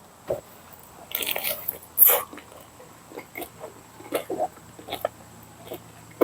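Crispy deep-fried red sausage is bitten and chewed up close, giving several sharp crunchy bites followed by softer irregular chewing sounds.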